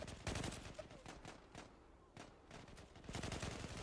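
Rapid, repeated gunfire from the online shooter Zula comes in dense bursts with brief pauses, fairly close and sharp, with a voice faintly present.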